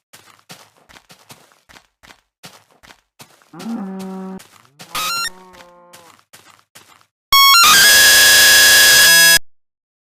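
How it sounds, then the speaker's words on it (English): Soft rhythmic clicks in Minecraft Alpha interrupted by brief buzzy electronic bursts, then a loud harsh distorted glitch blast for a couple of seconds before cutting out abruptly. "You hear a glitchy noise for a split second."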